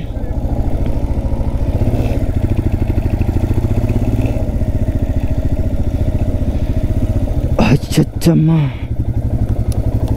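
Motorcycle ridden through the temple grounds toward the parking at the Dhyananjaneya temple in Karmanghat, Hyderabad, its engine thrumming loudly and steadily up close, with a short burst of speech near the end over the engine.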